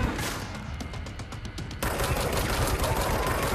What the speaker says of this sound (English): Machine gunning rocks at him.